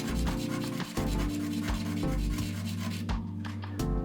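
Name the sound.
sanding down LED heads and acrylic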